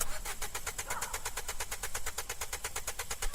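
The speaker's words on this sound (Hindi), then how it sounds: "गाड़ी एकदम से रुक जाती है" A car engine runs with a steady, rapid pulsing idle that sputters and knocks at a moderate distance, with no voices.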